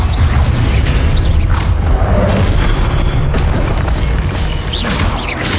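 A deep, booming Confringo spell explosion in Hogwarts Legacy, with a loud sustained low rumble and crackling blasts that stay dense and heavy throughout.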